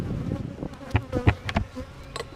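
Honey bees buzz around an open beehive super in a close, steady drone, with a few louder thumps and knocks mixed into the hum.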